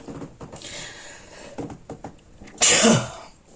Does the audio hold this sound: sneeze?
yes